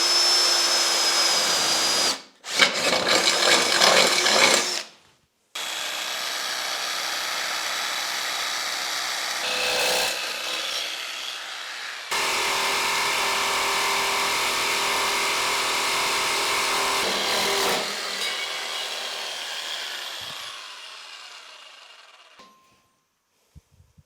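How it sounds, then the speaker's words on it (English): A jigsaw fitted with an aluminum-cutting blade cuts a notch for a router table fence. It gives several buzzing, rasping bursts of varying length with short pauses between them, and the sound fades out at the end. "I will do that with the jigsaw. I have a special blade that is meant for aluminum."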